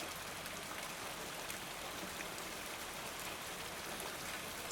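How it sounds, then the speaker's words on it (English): Heavy rain pouring down outside, a dense, steady hiss of falling water with no letup, even and fairly soft throughout, with no voices. "It's pouring down rain."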